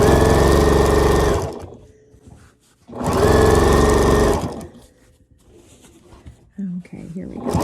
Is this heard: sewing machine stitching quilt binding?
yes